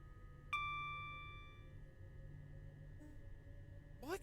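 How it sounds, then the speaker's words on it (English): A train signal bell in a train simulator's Bombardier Class 375/377 cab gives one quiet, clear ding that rings on and fades over about a second above a low, steady hum. "Signal bell."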